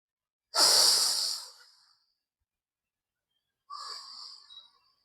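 Two deep yoga breaths taken with eyes closed, a long, forceful close exhale followed after a pause by a softer second breath, airy and hissing, in an otherwise silent room.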